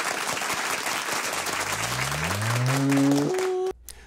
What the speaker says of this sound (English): Let's give our flannel graphers a big round of applause.